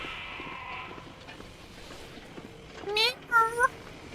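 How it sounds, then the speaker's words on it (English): Cougar cries in the survival video game The Long Dark: two short, rising wailing yowls near the end, over faint background game ambience. "It's a kitty cat."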